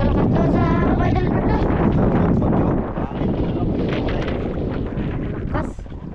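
Heavy rain and strong wind lash a fishing boat at sea, a loud, dense roar that stays constant throughout, with a voice speaking over it.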